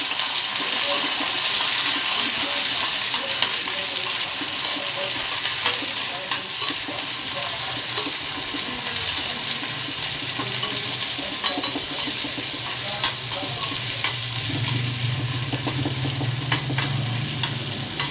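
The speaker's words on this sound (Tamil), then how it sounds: "கருவேப்பிலை கொஞ்சம் போடுறேன். இதை நல்லா வதக்கிக்கணும்." Onion, tomato and curry leaves sauté in a pan, a steady close hiss and sizzle broken by scraping stirs, with a louder crackling surge near the end.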